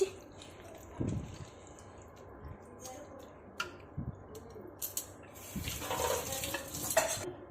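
Spices are tempered in a pan over cooked rice, with metal clinks and stirring scrapes, then a broad hissing sizzle swelling over the last couple of seconds, all close by with a voice speaking at times.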